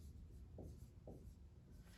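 A pen or pencil writes numbers by hand on paper, making faint, close scratchy strokes with two brief distinct scribbles over a low background hum.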